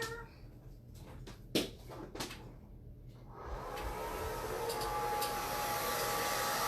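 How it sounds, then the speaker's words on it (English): After a few clicks and thumps, a hair dryer on a warm setting switches on and blows with a steady whooshing whine, close and continuous to the end. "let me grab my hair dryer"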